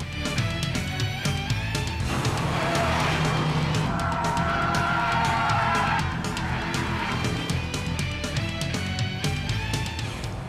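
A Pontiac GTO with an automatic transmission lapping California Speedway at around 120 mph, its engine roaring steadily with tire and wind noise, loud and close from inside the car, with a brief pitch shift through the turns.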